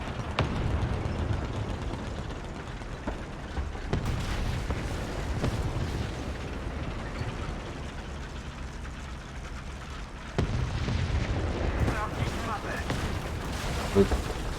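Heavy tank gunfire from Tiger E and Panther A tanks in a video game booms and cracks repeatedly over a rumbling engine drone, with sharp loud blasts breaking through at intervals.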